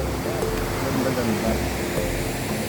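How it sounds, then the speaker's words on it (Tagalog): The strong current of the Dupinga river in Gabaldon, Nueva Ecija, makes a dense, continuous rushing roar of water that stays even and close throughout, with a faint voice partly buried in it. "napakalakas po ng alon"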